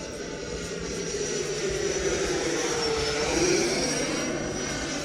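A Horizon Hobby RC jet flies a knife-edge pass, its steady turbine-like whine and rushing roar holding loud and continuous, swelling slightly as it passes.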